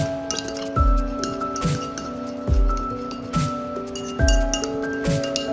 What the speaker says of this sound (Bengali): এবার এই 3টি উপাদান খুব ভালো করে মিশিয়ে নিন